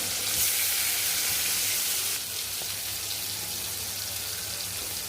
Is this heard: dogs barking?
no